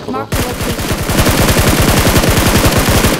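Rapid automatic gunfire from the BGMI (Battlegrounds Mobile India) mobile battle royale game, a loud, steady stream of evenly spaced shots that keeps going after a brief opening noise.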